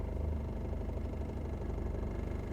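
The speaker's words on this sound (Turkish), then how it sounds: "Ve aracımız harekete geçiyor" A manual car pulls away in first gear as the clutch is released gently. A low, steady engine rumble with a soft rhythmic pulse stays fairly faint throughout, and no one speaks.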